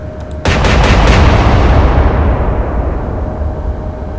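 Naval gunfire from a warship salvo in the Atlantic Fleet game: a quick rapid series of loud booming blasts that merge into a long rolling rumble which slowly fades, with no talk.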